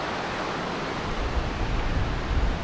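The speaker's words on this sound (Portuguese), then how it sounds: "Cada hora que a cachoeira vai descendo" Steady rushing roar of the Cachoeira do Salto waterfall, a broad continuous wash of falling water with a low rumble rising slightly toward the end.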